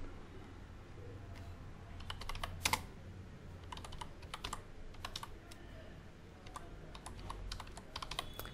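Rapid typing on a computer keyboard while writing JavaScript code, with close, crisp key clicks in quick irregular bursts, one louder key strike, and brief pauses between runs.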